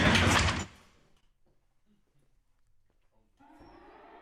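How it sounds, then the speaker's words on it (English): Doors close with one loud sliding thud at the start, then near silence with faint small sounds, followed by a steady rush of background noise returning toward the end. "Step back, doors closing."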